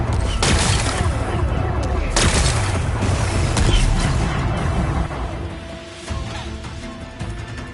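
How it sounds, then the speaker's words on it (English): Rocks blasted apart in Horizon Forbidden West, a series of loud booming explosions with crashing debris, the heaviest bursts early and then a rumbling tail that fades. "Gotta blast away some rocks, so I can expose the power cell. It's working! Exploding."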